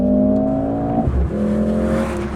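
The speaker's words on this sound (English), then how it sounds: "We're back to this engine. Really refined, really smooth, sounds nice." Close inside the 2024 Mercedes-AMG GLC 43 Coupe, the four-cylinder engine hums loudly under acceleration, with its pitch dipping briefly at a gear change before climbing again.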